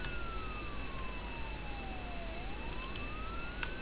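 A police siren in the Roblox game Jailbreak wails slowly, its pitch sliding down then back up, over a steady background hiss with no talking.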